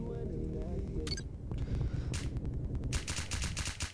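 MK11 gun firing in Roblox gameplay, with scattered single shots followed by a rapid, evenly spaced burst near the end, over a low, rumbling game background.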